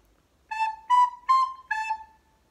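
Recorder playing the Bransle melody at real speed, four clear separate notes in a simple rhythm, close and solo in a quiet room.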